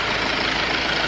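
A 2013–14 Fiat Ducato van's 2.3 16V Multijet turbo diesel engine, with oil in its coolant, idles steadily nearby, a continuous low rumble with a broad mechanical hum and no other sounds.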